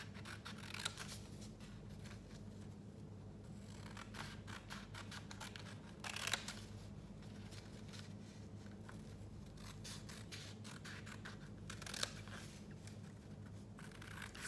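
Scissors cutting paper strips for a lantern give soft, close rubbing and snipping sounds, with a couple of sharper cuts standing out against a quiet, steady background.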